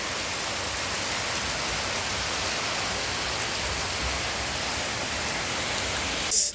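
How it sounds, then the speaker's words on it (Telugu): Heavy rain pours steadily on the Char Dham Yatra route in the Himalayas, a dense, even wash of falling water close around the listener with no voices, ending in a slight bump of noise. "ఇక్కడ ఇంకా వర్షం అయితే పడుతుంది"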